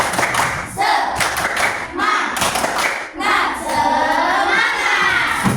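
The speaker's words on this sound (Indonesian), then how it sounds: "Gimana kalau kita tepuk semangat dulu?" A classroom of children performs a rhythmic clapping chant, with loud, patterned claps and thumps mixed with shouted chanting voices in quick bursts.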